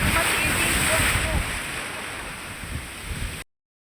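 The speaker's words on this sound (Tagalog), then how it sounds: "hindi tayo makapag-swimming kasi masyado malakas yung alon" Strong high-tide surf on a windy Boracay beach washes and churns in a broad roar with wind buffeting the microphone, fading somewhat before cutting off abruptly.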